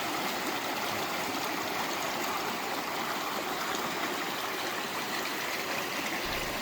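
The Elbow River rushes steadily near Elbow Falls in Alberta's Rocky Mountain foothills, a continuous broadband roar of flowing water heard alone at an even level throughout.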